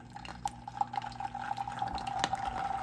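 Liquid crackling and popping in a hot pan of oil ready for refried beans, a steady close sizzle with scattered sharp pops over a low hum.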